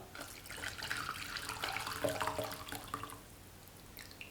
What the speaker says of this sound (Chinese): 熬好的醋汤，我们利用一个过滤网过滤出多余的残渣香料